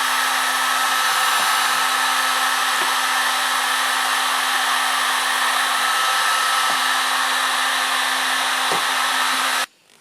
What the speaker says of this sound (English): I'm gonna cut my dryer on high first, just to heat up the element